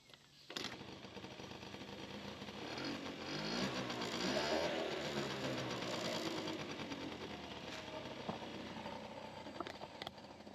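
A 1990 Honda Dio scooter's small engine drones steadily while riding, with a buzzing whine that rises and falls slightly over wind noise and no talk.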